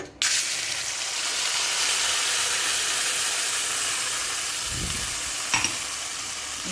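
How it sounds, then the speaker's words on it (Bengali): Spice paste tipped into hot oil in a wok, bursting into a loud, steady sizzling hiss that holds evenly close by, with a couple of faint clinks near the end. "কড়াইতে তেল দিয়ে দিয়েছি দিয়ে মশলাটা ঢেলে দেবো"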